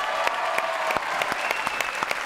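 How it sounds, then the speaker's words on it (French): Studio audience applause on a French television show as world pétanque champions are welcomed, brisk clapping with several crisp near claps over a steady crowd wash, short and fairly loud. "Applaudissements."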